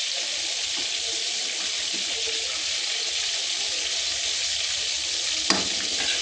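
Food cooking crisp in a pan after being flipped makes a continuous, even sizzle and hiss heard up close, with a brief clatter near the end and no talking.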